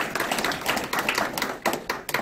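An audience claps at a graduation ceremony of a farmers' college in Hongcheon, South Korea, with close, distinct hand claps in uneven bursts. The clapping is moderately loud and slightly thins toward the end.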